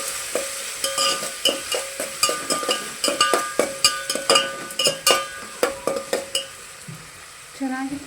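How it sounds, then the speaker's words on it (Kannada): Tomato and onion being stirred and fried for bisibele bath: a spoon scrapes the pan in a steady run of sharp, close clatters over a constant sizzle, with the stirring pausing near the end. "ಚೆನ್ನಾಗಿ ಫ್ರೈ ಆಗಬೇಕು."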